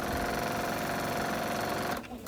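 A sewing machine runs steadily at close range while stitching the side seam of an apron, a fast continuous mechanical whir that stops abruptly near the end.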